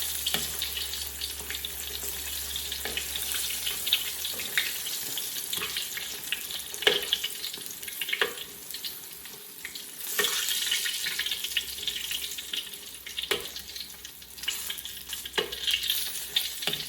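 Tofu sizzles and fries steadily in a pan on its way to golden brown, with repeated sharp scraping and stirring clicks punctuating the constant hiss, close and fairly loud.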